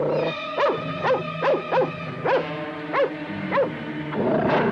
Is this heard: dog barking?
yes